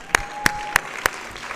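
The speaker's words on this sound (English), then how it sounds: "let's give another round of applause" A few sharp, evenly spaced hand claps ring out in a board of education meeting room, four distinct slaps with quiet between them and no voices.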